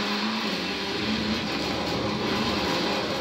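Train passing in the racing video game Forza Horizon 4, a steady, loud rumbling roar with a rushing wash of noise, close and unbroken for a few seconds, with no voices.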